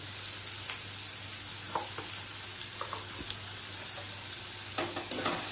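Coriander and turmeric powder sizzling in a frying pan for a paneer curry, a soft steady sizzle over a low hum with a few light stirring taps and scrapes.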